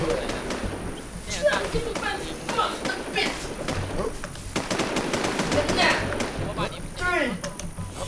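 Repeated bursts of gunfire crackle in the video game Infestation, sharp rattling volleys close by, with excited voices talking throughout.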